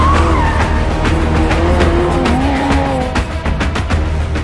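A Porsche GT3 RS sports car being driven hard, its loud engine note rising and falling through the revs while the tires squeal and skid, with a sharp ticking rattle running through the pass and no one speaking.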